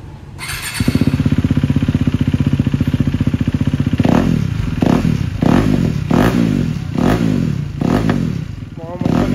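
A KTM RC 390 motorcycle with an Arrow aftermarket exhaust idles in a fast, loud, throbbing rumble, then is revved in a series of sharp, rising blips, close and dominant.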